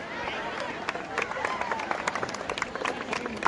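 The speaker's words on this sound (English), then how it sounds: "Dear students, kindly encourage them by your big round of applause, please" Students at an annual school sports meet applaud prize winners, a steady patter of many hands clapping at moderate distance beneath a faint crowd murmur.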